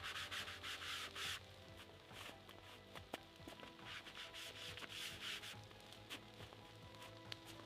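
Steady close rubbing of sandpaper smoothing the edges of an old Toyota Crown body during restoration, a continuous scratchy rasp with rhythmic strokes and a few light knocks.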